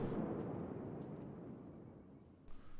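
A battleship's main gun salvo fires in World of Warships, a single massive booming blast with a long, deep rolling rumble that fades away, followed by a fresh low thump near the end.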